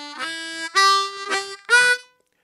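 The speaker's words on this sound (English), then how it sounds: "we are going to play two blow," Harmonica playing two blow, two draw, three blow, three draw: four distinct sustained reedy notes in even succession, close and alone without backing.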